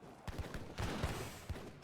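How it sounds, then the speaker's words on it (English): Heavy cannon fire in Age of Empires III during a large battle, with a massed heavy cannon barrage bouncing shots through troops: several sharp booming shots in an uneven rhythm over continuous battle din. "When you've got this many heavy cannons, oh, the bounce shots are killing everything"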